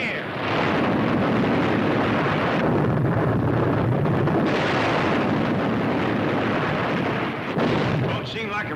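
Deep booming explosions throwing water into the air, with roaring rush filling the recording continuously, thick with wind-like noise and a voice briefly audible near the end.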